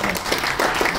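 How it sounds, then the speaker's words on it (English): Audience applause at a college annual report event, a steady dense wash of clapping filling the whole moment without a break. "I suggest that we give a good clap."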